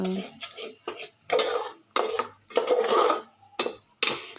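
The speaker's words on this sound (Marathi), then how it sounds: "तर इथं भाजीत मी थोडंसं बाजरीचं पीठ घातलेलं आहे आणि परतून घ्या व्यवस्थित अशा पद्धतीने." Vegetables coated with millet flour stirred in a pan, a series of rough scraping strokes from a spatula against metal in an uneven rhythm, close and moderately loud, with faint talk in the background.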